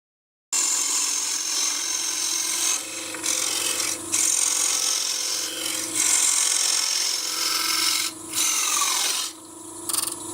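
A blade cuts a wooden barometer frame in a continuous rasping stroke, loud and close, with brief pauses between passes.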